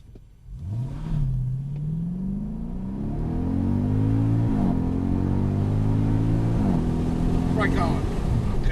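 A Mercedes-AMG car accelerates hard on a test track, its engine note climbing steadily with a loud rising rumble and brief dips at gear changes, while people talk over it inside the car.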